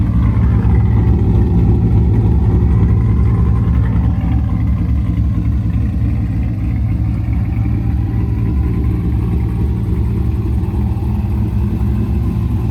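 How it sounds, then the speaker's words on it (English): A boosted LS-engined C5 Corvette rumbles steadily through a throaty Billy Boat exhaust, a deep continuous drone heard up close with no talking. "it's got a Billy Boat exhaust. She sounds great."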